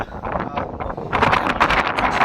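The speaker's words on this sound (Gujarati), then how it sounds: "અત્યારમાં પવન વાય છે જોરદાર" Strong wind buffets the microphone in rough gusts, growing louder and more turbulent partway through, with a rustling texture.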